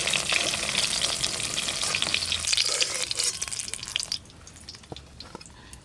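Drumsticks (moringa pods) sizzle and spatter as they fry in a pan, a dense steady crackle with occasional stirring that drops noticeably quieter toward the end.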